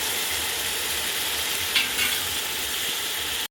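Finely chopped tomatoes with salt sizzling in a pan, a dense, steady hiss with one brief stirring scrape midway; close and constant, with no one talking.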